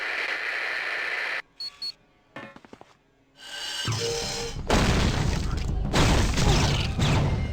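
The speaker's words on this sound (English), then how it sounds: "He's got missile lock. He's firing." A missile launches at a fighter jet in X-Men Legends 2, with short beeps and mechanical clicks, then a loud roaring whoosh and sustained rumbling blast that fills the rest of the moment.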